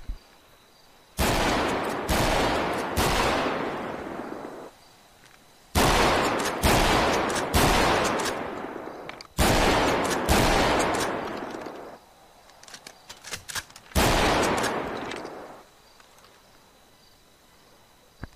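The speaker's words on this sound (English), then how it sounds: "Okay, now this is the shotgun," Modded shotgun sound in the game FiveM fires five loud, booming blasts spaced a couple of seconds apart, each followed by a long decaying echo tail, alone without talk.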